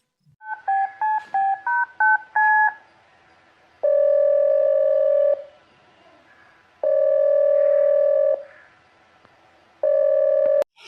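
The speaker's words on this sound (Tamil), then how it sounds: "கண்டிப்பா ஃபோன் பண்ணி பேசலாம்" A quick series of telephone keypad tones is dialed, followed by three long, steady ringback tones separated by pauses of silence.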